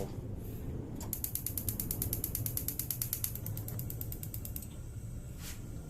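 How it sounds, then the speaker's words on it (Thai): A kitchen stove is switched on before pan-frying salmon, giving a rapid run of evenly spaced sharp mechanical clicks lasting several seconds, followed by a brief soft whoosh. The sound is quiet and close. "อ๋อเดี๋ยวเราเปิดเตาก่อน ลืมครับ ลืมเปิดเตา"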